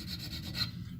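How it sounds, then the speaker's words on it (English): A small hand file rasps across a round steel tube, cutting a flat spot on a 1965 Ford F100, heard as a quick, close, steady scraping stroke lasting about a second. "take a little file"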